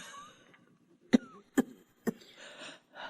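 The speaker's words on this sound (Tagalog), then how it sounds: "Lumalala yata ang ubo mo" Three sharp, separate coughs come close and fairly loud in a quiet room, spaced about half a second apart, followed by soft breathy noise.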